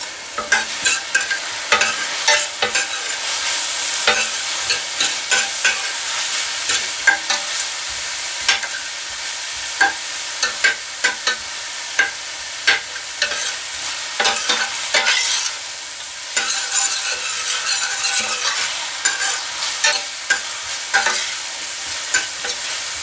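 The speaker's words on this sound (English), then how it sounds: "We're just going to cook these jalapenos until they soften a little." Minced garlic and jalapenos sizzle steadily in a pan while a utensil repeatedly stirs and scrapes through them, the crackling frying sound continuous throughout with no talking.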